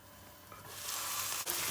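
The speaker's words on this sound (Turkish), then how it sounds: "Bir kere karıştırdım şöyle bakın. Salça artık dibine yanıyor." Tomato paste sizzles and fries in a pot while being stirred, for chickpea stew with meat; a steady close frying hiss grows louder partway through, with a brief scrape of stirring near the end.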